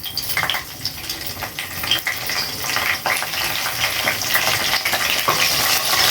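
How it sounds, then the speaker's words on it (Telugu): Dried red chillies and curry leaves crackle and sizzle in hot oil for a Telugu drumstick and egg curry, a close, busy frying hiss with scattered pops and occasional stirring clinks, no talking. "ఇది వేగుతున్నాయి కదండి"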